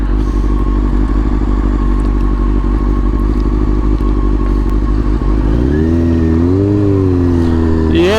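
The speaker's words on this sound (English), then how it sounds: "It's got an aftermarket exhaust." A Honda CBR 600F4i sport motorcycle with an aftermarket exhaust idles loud and close with a steady throb, then revs up and down in a couple of rising and falling swells near the end.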